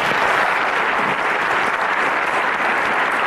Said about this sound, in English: Ladies and gentlemen, a round of applause for them.